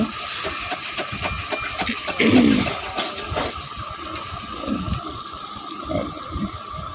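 Water left from boiling jackfruit is poured into a hot pan, producing a continuous hiss and steamy sizzle with bubbling splashes that swells briefly and then settles into a steady wash.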